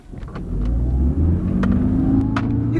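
A Toyota Prius hybrid pulls away from a standstill at full throttle, its engine rising into a steady loud rumbling drone that builds and holds from inside the car, with no talking.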